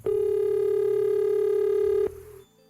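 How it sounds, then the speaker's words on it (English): A steady telephone dial tone sounds clearly and continuously for about two seconds on a line to Virginia, then cuts off abruptly, leaving a faint click and quiet line noise. "every so often, David's colleague Mike Spann would get a reminder when he dialed home to Virginia to speak with his wife, Shannon."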